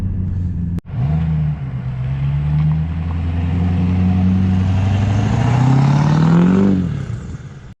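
Pickup truck with a swapped-in LB7 diesel engine driving on its second run after the swap, a steady loud engine drone that climbs gradually in pitch as it accelerates, then drops off near the end.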